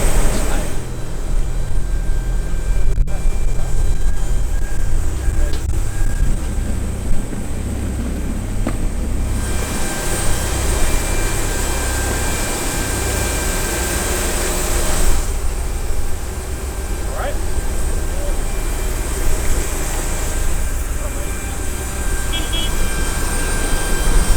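Airliner cabin noise during a flight to Portugal, a loud steady engine drone and rushing air throughout, with people talking over it at times.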